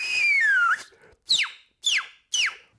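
A person whistles alone, holding a long sliding note and then giving three short, sharply falling whistled notes with brief gaps between them.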